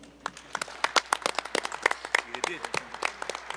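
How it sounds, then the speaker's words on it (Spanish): Audience members at a national and international congress of Ayacucho music clap for themselves, with sharp, scattered, irregular claps close by and voices talking over them. "¿Qué tal si nos damos unas palmas nosotros mismos?"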